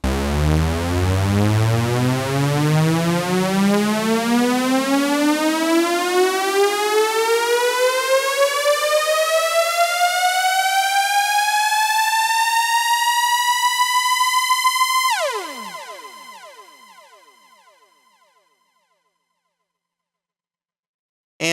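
A synthesizer riser sweeps steadily upward in pitch for about fifteen seconds, loud and harmonically rich. It then drops sharply and decays into silence.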